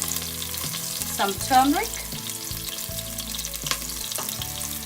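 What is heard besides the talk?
green chilies and garlic spluttering in hot oil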